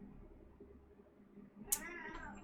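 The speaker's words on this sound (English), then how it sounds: "Oh, that's my cat, sorry." A house cat lets out a single short meow near the end, close and fairly clear over a quiet room hum.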